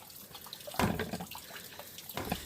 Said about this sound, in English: Give it a quick rinse.